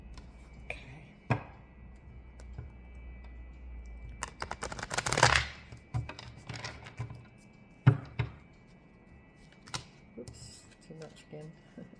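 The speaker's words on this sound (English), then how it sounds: "Let's give this a little bit more of a shuffle." A deck of tarot cards is shuffled nearby in short, crisp riffles and taps with pauses between, soft and intermittent, with a voice speaking now and then.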